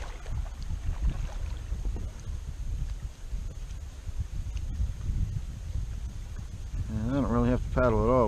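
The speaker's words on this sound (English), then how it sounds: "definitely have a wind at our backs here" Steady wind blowing across an open reservoir heard from a kayak, a continuous low rushing noise with microphone buffeting throughout; a voice joins near the end.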